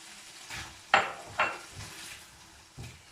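Onions and garlic frying in oil in a pan while being stirred, a handful of scraping strokes and clatters of the utensil over a faint sizzle, close by.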